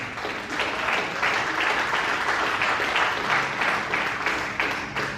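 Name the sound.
applause from the congregation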